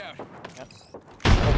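A frag grenade in Apex Legends detonates in a loud, broadband blast that cuts in abruptly and rumbles on. Excited voices talk just before it.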